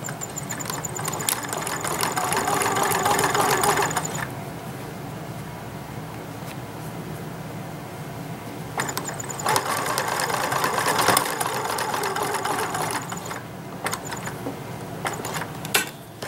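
A sewing machine stitches a doll's reversible vest in two bursts of steady mechanical whirring, the first running about four seconds and the second longer after a short pause, with quieter handling noise between.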